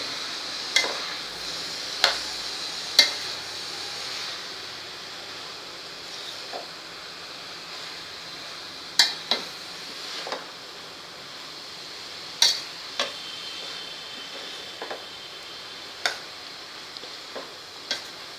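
Carrots sauté in ghee in a pan with a soft, steady sizzle, as a spoon stirs them and knocks against the pan in sharp, scattered clicks.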